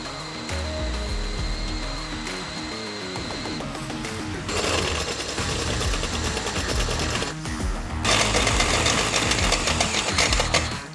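A cordless DeWalt DCD791 drill fitted with a step bit bores through a 100 by 100 mm steel tube with 5 mm walls, giving a steady motor whine and grinding that grows louder and harsher in later stretches.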